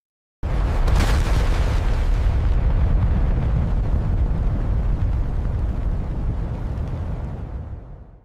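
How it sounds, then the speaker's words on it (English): An AI-generated futuristic spaceship blasts off from a desert with a sudden loud rumbling roar that starts abruptly, holds as a dense booming wash, then fades out near the end. "here's my futuristic spaceship blasting off from the desert"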